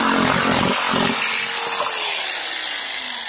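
An electric jigsaw with a radius blade for laminate cutting, a loud, close, continuous buzzing saw whine that runs without a break and slowly winds down in pitch.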